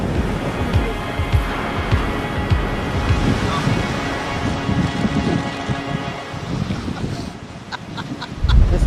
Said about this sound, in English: This is what happens when the wave closes out on you and you have to bail out.